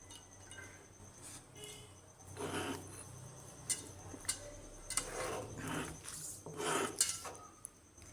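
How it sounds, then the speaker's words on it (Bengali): Soaked lentils being ground by hand on a shil-nora grinding stone, giving soft, uneven rasping and rubbing strokes with occasional light knocks of stone on stone, close and fairly quiet, with no talking. "এখন ডাল শিলনোড়ায় বেটে নেব।"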